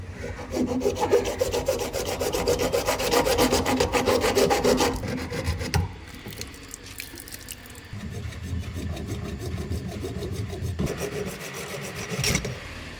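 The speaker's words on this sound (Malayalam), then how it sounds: "കട്ട് ചെയ്യാനായിട്ട് നമുക്ക് ആക്സ് ബ്ലേഡാണ് എടുത്തേക്കുന്നത്." A hacksaw blade rasps back and forth through a water tank in steady strokes, close and fairly loud, pausing briefly before resuming with a lower, duller scrape.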